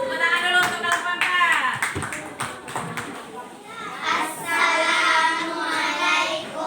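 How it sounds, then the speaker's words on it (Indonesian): Classroom students clap for a student group coming forward to present, a brisk scattered patter that starts, pauses around the middle and swells again, with children's voices chattering underneath. "Ayo, tepuk tangan dulu untuk kelompok 4."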